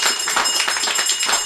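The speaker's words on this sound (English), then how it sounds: "Let's give them all a rousing round of applause." A crowd applauding at an outdoor house handing-over ceremony in Molineux: dense, continuous clapping, fairly loud and close, with no voices over it.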